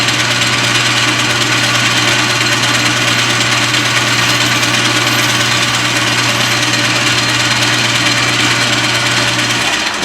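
Lathe running while drilling a plastic screw, a loud, steady motor drone with a constant low hum and a bright whining tone throughout.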